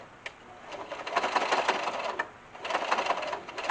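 A sewing machine backstitches a seam, its needle running in a steady rapid mechanical chatter that pauses briefly partway through and then resumes, close and alone.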